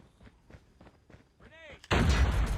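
A few soft thumps, then a loud, sudden blast of a grenade explosion in Call of Duty: Mobile that roars on with heavy rumbling noise until the end.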